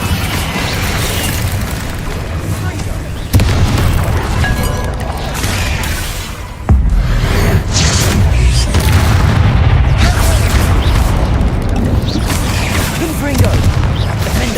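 An Incendio fire spell in the video game Hogwarts Legacy sets off a loud, continuous roaring blast of flame and rumbling booms, with sharp surges at two points and dense crackling combat sound under battle noise.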